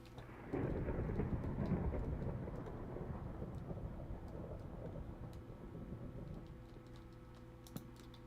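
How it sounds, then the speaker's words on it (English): A Minecraft thunderstorm: a deep thunder rumble rolls in after half a second and slowly fades under steady rain, with faint keyboard clicks scattered throughout. "So a thunderstorm going upstairs."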